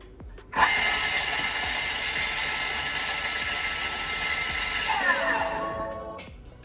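A food processor chops rosemary and garlic for pizza bianca with a steady, loud whirring grind that starts sharply, runs for several seconds, then winds down.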